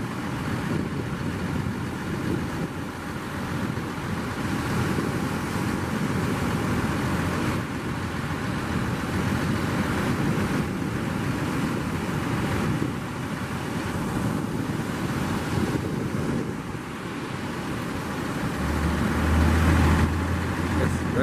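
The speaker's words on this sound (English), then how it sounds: "Checking that all the motors are pumping water." Outboard boat motors running at the St Lucia estuary mouth, a steady low engine drone mixed with heavy wind noise across the microphone and some water sounds.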